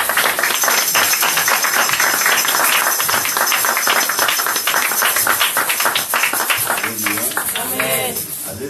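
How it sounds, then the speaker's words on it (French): A church congregation at a Sunday service clapping and cheering together in a dense, continuous wave of applause, loud and close, with voices calling out through it. "on acclame pour la gloire."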